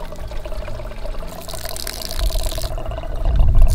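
Spring water pours in a close, continuous splashing stream that grows fuller and louder toward the end, with no talking over it.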